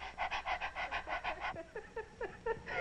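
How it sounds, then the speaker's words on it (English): A woman in labor during childbirth pants in quick, rhythmic breaths like a dog, a steady run of short puffs that briefly pauses and then resumes slightly more ragged, close and alone. "I want you to stop pushing down and pant like a dog"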